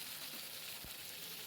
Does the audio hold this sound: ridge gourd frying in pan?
yes